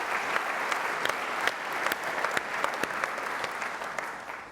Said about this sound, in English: A round of applause for our great platinum sponsors.